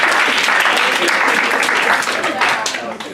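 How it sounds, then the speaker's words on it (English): Audience round of applause at a live class presentation, dense sustained clapping filling the room, loud and continuous with some voices mixed in, tapering slightly near the end. "let's give a round of applause."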